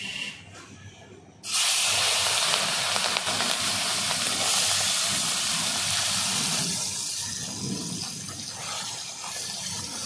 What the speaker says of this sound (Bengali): মাছে নুন হলুদ মাখিয়ে নিলাম ভালো করে মাছগুলো প্রথমে ভেজে